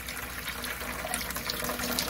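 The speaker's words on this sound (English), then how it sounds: "I've been running the tap already for a little bit" Hot water runs from a household tap in a steady, hissing stream, filling a paint tray at close range without any talking.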